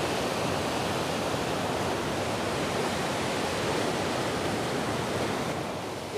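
Floodwater from a river rushes through a creek bed that was dry, in the sertão of Ceará, Brazil. The flow makes a loud, steady, unbroken roar with no talk.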